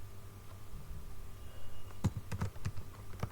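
Someone types a pip install command on a computer keyboard in a Python setup: a quiet stretch with background hum, then a quick cluster of crisp key clicks near the end.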